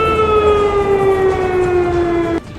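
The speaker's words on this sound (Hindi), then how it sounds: "धमाका होते ही खतरे का सायरन बजाकर लोगों को अलर्ट" A loud air raid warning siren sounds after bomb blasts, holding a steady wailing tone that slowly falls in pitch before cutting off abruptly near the end, leaving faint background noise.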